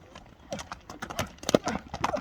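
A horse's hooves clip-clop in a quick, uneven rhythm at close range, followed by a short whinny, with faint voices in the background.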